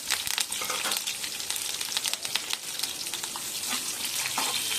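Onion and curry leaves fry in hot oil in a kadai, giving a steady crackling sizzle with sharp spits and pops over a continuous hiss, close and fairly loud.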